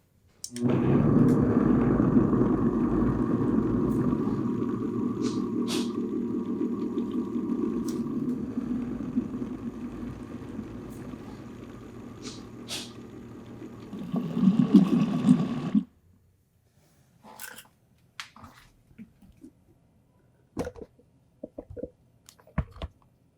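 A blender's steady whirring motor runs for about fifteen seconds mixing a rice flour batter, then cuts off, leaving a few faint clinks and scrapes.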